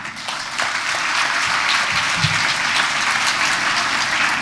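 Dense, steady applause from a seminar audience of students, clapped as a prayer of remembrance for someone who has died, with sustained clapping throughout and no talk over it.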